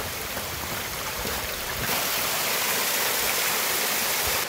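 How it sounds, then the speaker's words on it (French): A waterfall roars in a steady, broadband rush that swells slightly louder midway and holds constant throughout, with no voices over it. "et là une cascade, on ne sait pas trop comment s'approcher"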